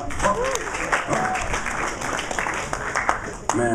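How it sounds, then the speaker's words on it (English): Crowd applause at a hip-hop conference event, a dense wash of clapping and cheering with voices talking over it throughout. "Make some noise for Ross, y'all."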